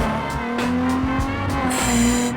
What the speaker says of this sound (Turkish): Çok kayıyor bu araba. Araba inanılmaz kayıyor.